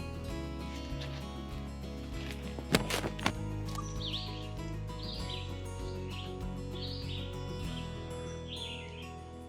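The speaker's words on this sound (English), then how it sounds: "I'm hoping you guys can hear the birds in here." Several birds chirp and tweet in quick scattered bursts in a lakefront forest in Maine, over a steady low background hum, with no voices.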